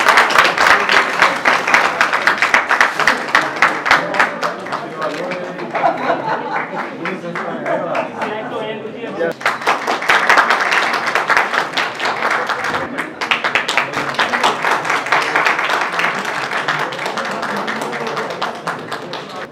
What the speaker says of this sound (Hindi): जोरदार तालियां मिस्टर राजीव जी के लिए